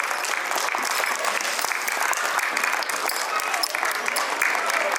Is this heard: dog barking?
no